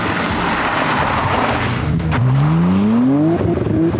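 A BMW 335i fitted with two large turbos roars steadily, its pitch rising sharply as it accelerates hard through first gear, loud and close.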